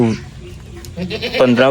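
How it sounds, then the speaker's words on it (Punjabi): A goat bleats loudly and close by at a livestock sale where goats and lambs are being looked over, with a short cry at the start and a longer wavering bleat at the end, amid people talking. "ਇਹ ਤੇ ਬੱਕਰੀ ਆ।"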